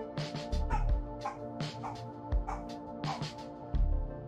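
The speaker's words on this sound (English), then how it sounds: "I apologize for the dog." A dog barks and yips in a series of short, uneven outbursts, fairly close, over a steady tonal background of game music.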